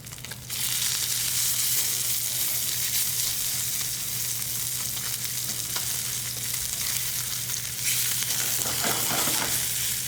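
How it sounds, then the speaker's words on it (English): Fish sizzles steadily skin-side down in a hot frying pan, a loud continuous crackling fry with a brief shift near the end, no voices. "Now it's about time to flip the fish just for a second or two in order to finish"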